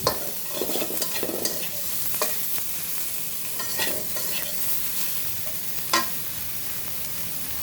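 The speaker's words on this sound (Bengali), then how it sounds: "বেগুনগুলো ভেজে নিব দেখো বেগুনগুলোকে সুন্দর করে ভেজে নিলাম" Eggplant slices frying in a pan for a spinach dish, with steady sizzling and a few sharp scraping stirs and clinks of a spatula, close and fairly loud with no talking.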